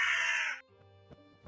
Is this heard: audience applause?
no